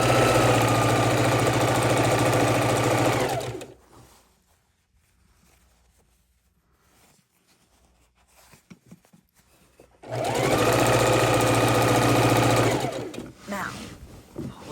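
A sewing machine stitches quilt pieces for a king-size quilt in two loud, steady motor runs separated by a quiet stretch of about six seconds with faint handling sounds.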